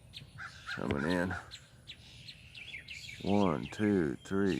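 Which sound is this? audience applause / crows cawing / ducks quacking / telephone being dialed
crows cawing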